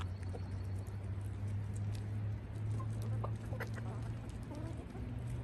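Chickens clucking in a farm's chicken area that shares a fence with goats and turkeys, soft scattered clucks and calls over a constant low hum, fairly distant and gentle.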